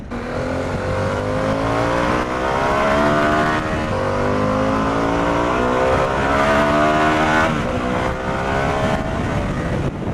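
A Harley-Davidson Pan America motorcycle with a 150-horsepower engine accelerates hard through the gears, its loud, close exhaust note rising in pitch repeatedly with each shift.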